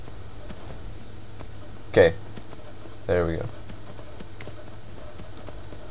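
Horse hooves clip-clopping while riding in the fantasy game Skyrim, a soft steady patter under a low drone, interrupted by two short bursts of someone speaking.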